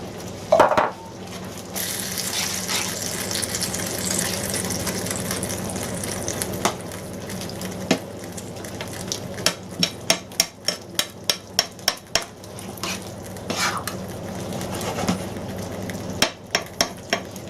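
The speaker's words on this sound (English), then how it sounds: "I'm going to let that just simmer along nicely for about 10 or 15 minutes" Cottage pie filling of mince and peas cooking in a pan, a loud steady sizzle with scraping stirs, followed by a rapid series of sharp spoon taps against the pan rim and a few more knocks.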